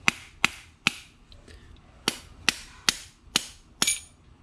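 A screwdriver raps a Smith & Wesson 986 revolver side plate in a series of eight crisp metallic taps at an uneven, roughly half-second pace, close and clear.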